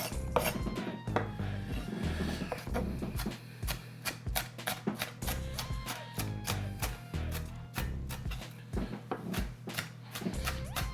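A knife rough-chopping onion on a cutting board for celery soup, a steady run of sharp, close, fairly loud chops with short pauses between bursts.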